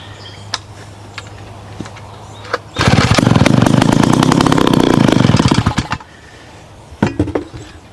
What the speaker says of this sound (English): There again, low RPM but pretty barky.